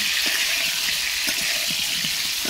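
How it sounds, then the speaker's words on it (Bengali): Pointed gourd (potol) pieces fry with salt in a pan, giving a steady, close sizzle with faint stirring clicks throughout and no talking. "পটলগুলো আমি একটু ভালো করে আগে ভেজে নেব।"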